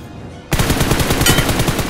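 Rapid automatic gunfire from the battle royale mobile game BGMI, a loud sustained burst of shots that cuts in suddenly after a brief quiet start and rattles on steadily to the end.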